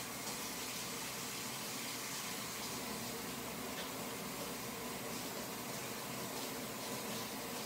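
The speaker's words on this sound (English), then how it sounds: "Let me wash my hands real quick." Steady, loud water from a kitchen tap running continuously while hands are washed clean of grease during snickerdoodle baking, a close, unbroken rushing with no talking.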